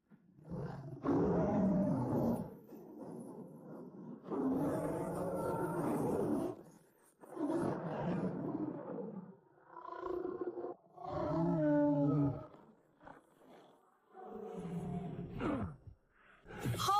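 A fire lion roars in an anime scene. A series of long, deep roars and growls come in several loud, drawn-out bursts separated by short pauses, with no talk.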